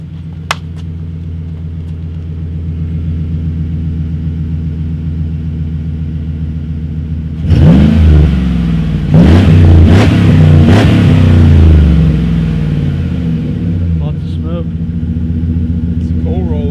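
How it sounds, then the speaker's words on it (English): A truck engine idling with a deep rumble, then revved loudly a few times in quick bursts before settling back, close by with people talking over it. "Gotta give it a few revs."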